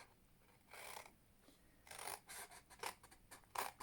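Scissors snip through cardstock along score lines for a hexagonal box, a series of quick, close, crisp cuts in irregular rhythm with no talking.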